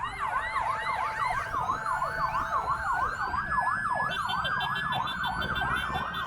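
Ambulance siren wails in a rapid, continuous rising-and-falling pattern, steady and fairly near, with traffic noise underneath.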